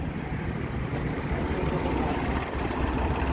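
A 1960 Volkswagen Beetle with a 1200 engine and an electric fuel pump, recently serviced, idles smoothly in a steady, close, unbroken rumble with no voices over it.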